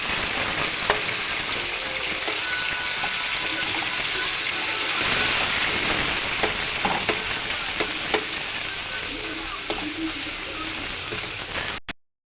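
Ground pork sautés with onions in a pan, giving a loud, continuous sizzle like steady rain, broken by occasional spatula scrapes and clicks against the pan, before it cuts off abruptly at the end, with no talking.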